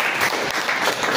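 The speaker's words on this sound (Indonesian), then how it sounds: "tepuk tangan dong buat" A classroom of students applauding a question, a dense, close burst of clapping that stays loud and steady throughout.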